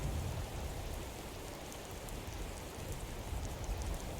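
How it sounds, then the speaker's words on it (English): Rain pours onto water in Skyrim, a dense and even patter of drops that runs steadily throughout, soft and with no voices. "I can definitely see a whole lot of raindrops hitting the water"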